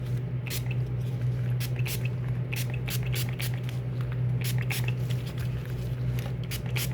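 A spray bottle of wintergreen rubbing alcohol is pumped onto a Louis Vuitton wallet, with many short close spritzes in an uneven rhythm over a steady low hum.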